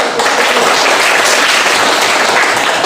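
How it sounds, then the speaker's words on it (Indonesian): Loud, dense applause from an audience in a classroom presentation session, a steady wash of many hands clapping that fills the whole stretch without a break. "Berikan aplaus"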